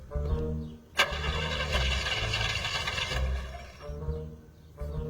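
A car engine hard starting and failing to catch, the starter cranking in a long grinding whir between sharp clicks, near and fairly loud, then dropping off and cranking again.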